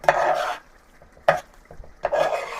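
Tapioca and chicken curry mixture stirred in a pot, three scraping, squelching strokes of a spoon with short pauses between them, close and fairly loud.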